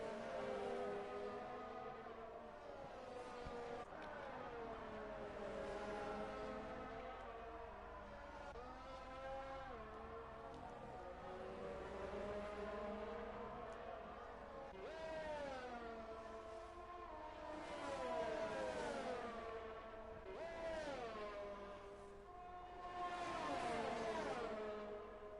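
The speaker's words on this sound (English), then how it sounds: "make you listen to those beautiful engine sounds" Race car engines scream in a PS4 racing game at the Russian Grand Prix, several high-revving engines rising and falling in pitch through gear shifts as cars pass, loud and continuous with no talk.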